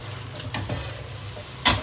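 Beef sizzles steadily as it fries in oil in a pan, with intermittent scraping and clattering strokes of a spatula stirring the meat, close up and alone with no talk.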